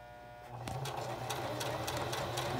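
A sewing machine starts up after a short pause and runs steadily, its motor humming under a fast, even patter of stitching clicks. The sound is close and moderately loud, with no talk.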